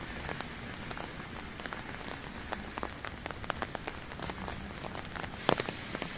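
Heavy rain mixed with hail pours down on the city of Kursk: a dense, steady hiss with sharp little impacts scattered throughout, close and continuous, and no voices.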